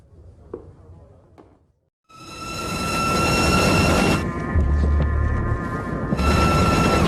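A steam train rumbles loudly and continuously at close range, with a bright whistle-like tone riding over the roar after a brief quiet start.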